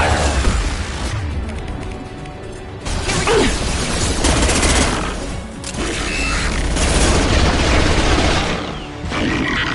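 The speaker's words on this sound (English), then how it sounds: "Taking heavy fire." Heavy sustained gunfire in a Mass Effect 2 battle, dense overlapping bursts and booms filling the scene loudly and continuously, with mechanical clatter mixed in.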